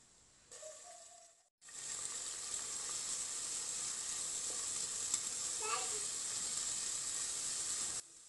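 Cubed beef, lamb or veal with sliced onion sizzles steadily in hot oil in a pot for Moroccan harira, a loud constant frying hiss starting after a brief quieter moment, with a few faint stirring scrapes.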